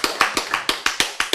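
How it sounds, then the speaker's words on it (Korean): Rhythmic clapping, about eight sharp even claps in quick succession, close and fairly loud, like a group clapping in unison. "자, 박수"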